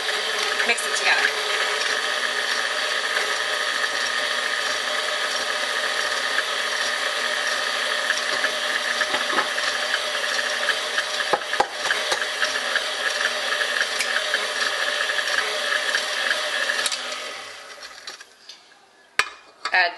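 A mixer whirs steadily at close range while beating eggs into blueberry muffin batter, a continuous buzzing hum with a faint rattle that drops away near the end, followed by a few light clicks.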